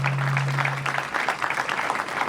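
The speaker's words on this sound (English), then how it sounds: "So we can give you the round of applause that you so richly deserve." A crowd at a school graduation ceremony applauds the parents of the graduating class with dense, steady clapping, preceded by a brief low hum.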